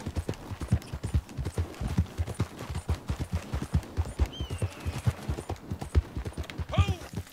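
Horse hooves galloping while riding in a video game, a fast rhythmic clip-clop of hoofbeats held close and steady, with a brief whinny near the end and a voice talking faintly underneath.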